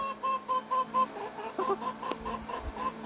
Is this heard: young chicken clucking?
yes